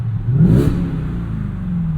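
A Ford F150 Raptor R engine revs up hard toward its redline, a brief rising roar close by, then settles into a steady rumbling idle.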